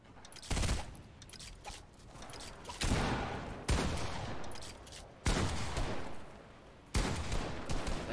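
A minigun in Fortnite rips out about five loud, sustained bursts of rapid fire, separated by short pauses, with no talking.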